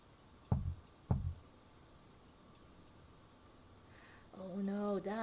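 Two dull knocks on a door sound in the detective video game Unheard: Faceless Crimes, followed by quiet room tone and then a voice talking near the end.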